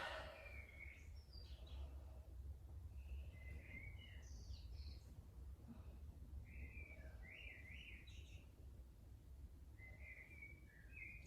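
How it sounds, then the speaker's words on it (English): Faint morning birds chirp and trill in short phrases over a steady low rumble of background noise, distant and quiet. "The birds are singing beautifully this morning."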